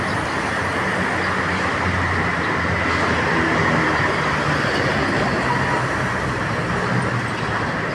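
Steady roadway rumble fills busy Commonwealth Avenue as a red car pulls out into traffic, a dense, continuous wash of engines and tires at moderate distance with no talk.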